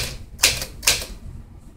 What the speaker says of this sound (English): this quick Smith Corona manual typewriter, going through all the keys